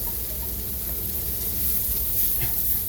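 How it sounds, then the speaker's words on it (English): Rice sautés in a hot pan for Thai basil fried rice with chicken, a steady close hiss and sizzle that holds even throughout without any talk. "Now we have our rice. Saute it nice, give it a nice flavor."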